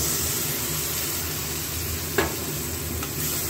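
Fried onions with spice paste and a splash of water sizzle steadily in a pan, a constant close frying hiss with a brief stir clatter partway through, no voices.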